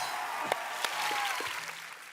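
Television show audience applauding Ranbir Kapoor and Aishwarya Rai, a steady wash of distant clapping, fairly faint, with a couple of sharper claps standing out.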